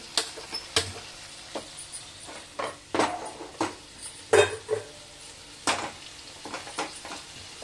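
Bottle gourd and ridge gourd sautéing in a pan, a quiet low sizzle under repeated irregular scrapes and taps of a spatula against the metal, close and with no voices.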